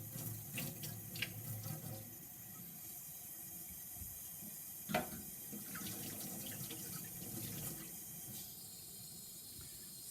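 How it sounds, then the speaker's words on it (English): Tap water runs at a moderate flow while underglaze is washed off a dried coil-built clay pot, a steady hissing stream with a few splashes and clinks, no talking. "make sure your water is not going too fast, but you do want some running water and a cloth towel"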